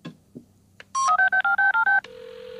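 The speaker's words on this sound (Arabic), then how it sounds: "الهاتف يرن، سأقفل الخط." A cartoon telephone from a Looney Tunes episode gives a short burst of quick dialing beeps, then a steady electronic tone, all loud and close, with no talk over it.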